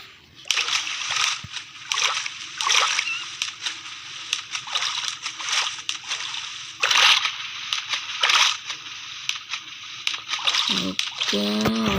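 Repeated splashes and sloshing as a player moves through water in Minecraft, loud and close, a steady run of watery bursts across the whole stretch.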